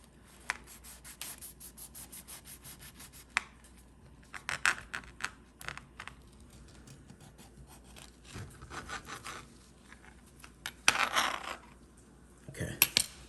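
Knife sawing through a loaf of two-ingredient ice cream bread, a series of soft scraping, rubbing strokes with a few sharper crunchy bursts near the end, close and fairly quiet with no talking.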